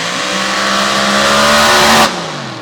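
Open paddle tire race car roaring hard down the dirt track, a loud sustained engine howl climbing in pitch before cutting off abruptly near the end.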